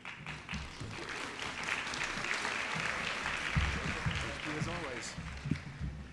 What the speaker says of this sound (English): big round of applause for our host, San Jacinto College, and Jim that runs this